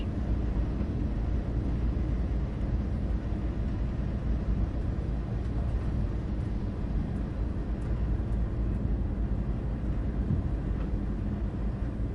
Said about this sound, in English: The freight train's passing us.